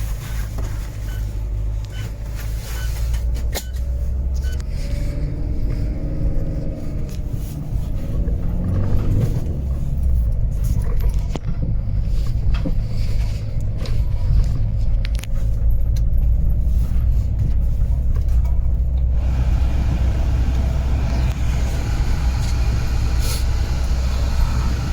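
A car drives through a snow storm in Iceland, its engine and tyres making a steady low rumble under wind and road noise, with no talk.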